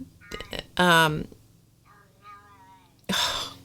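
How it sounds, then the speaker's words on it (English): A cat meows mournfully from behind a closed door indoors, several drawn-out cries between louder bursts of nearby speech, with a person talking over and around the calls. "The mournful meows coming from behind door number 1."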